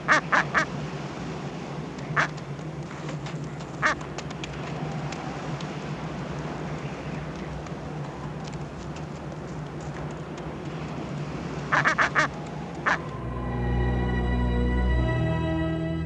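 Antarctic seabirds that swim like dolphins call in the open, with scattered sharp honking bursts over steady wind-like noise, then a louder, closer run of harmonic cries near the end.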